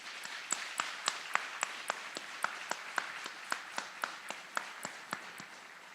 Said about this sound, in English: Please join us in a round of applause for these outstanding drill sergeants and instructors.